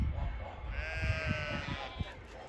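Sheep bleat on a farm during a windy day, one drawn-out wavering bleat rising up close and then fading.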